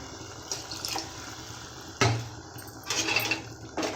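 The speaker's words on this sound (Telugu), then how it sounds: "ఈ వాటర్ వేయాలండి మిక్సీకి కొట్టుకునేది కొద్ది వాటర్ వేయాలండి కొద్దిగా" A little water is poured into a mixer jar while making a black-eyed pea curry: a few short splashing pours at close range with quiet pauses between them.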